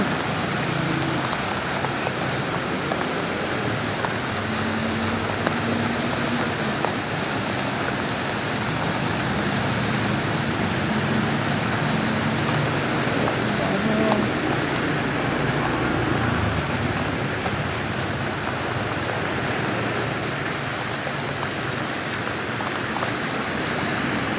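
Steady rain pours down continuously, a dense hiss of drops on surfaces with no voices, constant and fairly close throughout.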